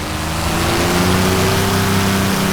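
A Spitfire engine in the A2A Accu-Sim flight simulator, propeller flat, surges under abruptly applied power, a loud steady droning roar with strong low harmonic tones that holds without a break.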